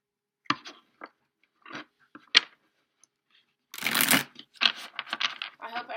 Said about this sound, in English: So we'll shuffle this deck, get it popping a few times